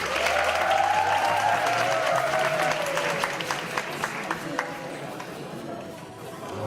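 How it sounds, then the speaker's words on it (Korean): An audience at a mentoring talk concert claps steadily in a dense, sustained round of applause that fades slowly, with a few scattered claps near the end and a voice speaking over part of it. "이건 참 박수 잘 치시네요."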